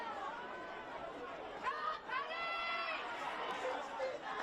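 Crowd at a schoolboy rugby league match reacting with a rising swell of cheers and excited chatter, moderately distant, with a commentator talking over it.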